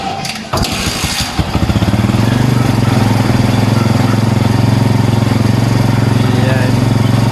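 A Barako 2 motorcycle from 2022 cranks with a few rough sputters, catches, and settles into a steady, loud, close single-cylinder idle that runs on without break.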